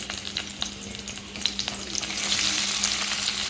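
Chopped onion and garlic hit a hot pan, with close crackling sizzle and a few stirring clicks; the frying grows louder and denser after a couple of seconds. No one speaks.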